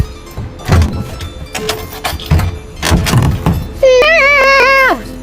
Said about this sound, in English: that's the sound of me locking the shack where I live